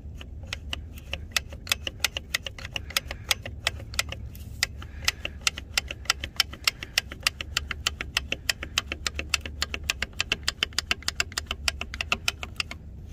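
Ratchet wrench clicking steadily while removing an injector from a Small or Big Cam Cummins PT diesel engine, a long run of close, rapid metallic clicks with brief pauses, no talking.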